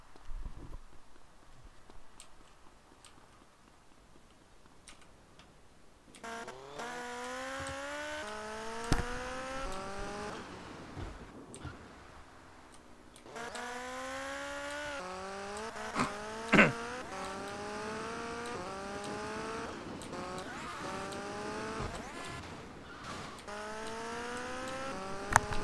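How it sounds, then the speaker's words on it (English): A motorbike rides along in GTA Vice City, its engine whining up through repeated gear shifts in rising sweeps. It sounds fairly close and steady, dropping briefly between stretches of acceleration. "It's so hard to drive a bike in this game."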